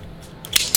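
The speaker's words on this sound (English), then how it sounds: "I've got my trusty hose cutters. Put the point, make the noise" Hose cutters snap through a hose on a turbo V6 Camry build in two quick, crisp cuts close by, a short sharp crunch followed by a second clip within a fraction of a second.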